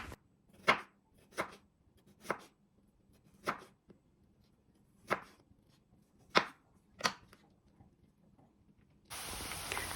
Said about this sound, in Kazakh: осылай сопағынан фриге турап аламыз